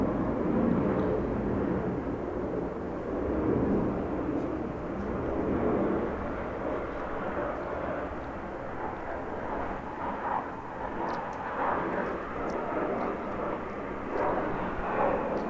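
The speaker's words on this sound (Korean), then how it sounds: "비행기 소리가 좀 시끄럽기는 한데" Airplane flying overhead above a Korean high school classroom, a loud continuous broadband roar of jet engines lasting throughout, steady with slight swells, no talk over it.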